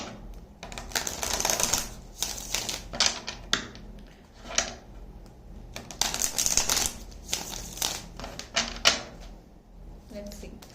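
Tarot cards drawn and handled during a reading, a run of close crinkly card rustles and taps spread across the clip, with a voice speaking underneath at times.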